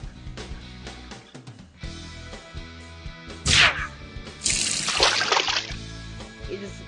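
Two bursts of hissing, splashing water spray from a spray ray in the game World of Cars stand out over a busy background of game music and effects.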